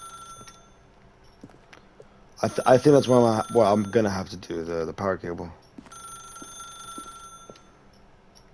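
A telephone rings in The Stanley Parable: Ultra Deluxe, a steady electronic tone pattern heard before and after someone talks over it in the middle.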